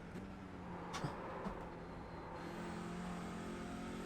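A race car in the iRacing sim game accelerates under throttle, its engine a steady, sustained drone at even loudness throughout, with no voices.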